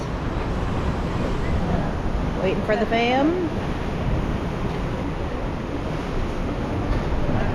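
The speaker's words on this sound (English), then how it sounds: "Rockin' waves." Loud, steady rush of ocean waves and surf beside the cruise ship Grandeur of the Seas, mixed with strong wind buffeting the microphone, while a voice speaks briefly midway.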